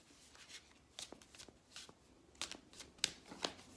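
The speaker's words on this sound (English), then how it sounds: "I just need to do one more little shuffle" A tarot deck shuffled by hand, soft riffling and papery slaps in quick uneven bursts, close and fairly quiet with no talking.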